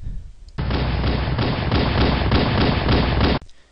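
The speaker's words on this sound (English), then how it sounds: "now Rookie, fire wildly at Sage" Sustained, loud burst of rapid gunfire from the Halo video game, a dense unbroken stream of shots lasting about three seconds that starts and stops abruptly, with no talk over it.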